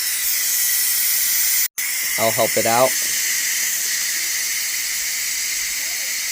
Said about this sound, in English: We gotta wait for all the air, the steam to come out before we can even open it.